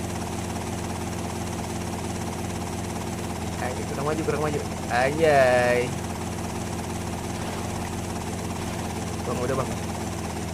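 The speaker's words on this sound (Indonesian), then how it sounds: "Coba gue mau mendaratkan helikopter gue guys." Helicopter in GTA Vice City Stories coming down to land, a steady droning rotor and engine hum throughout while people talk over it.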